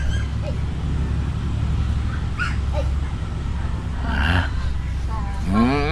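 Puppies whimper and let out high yips and whines at intervals, close by, over low background noise and faint voices.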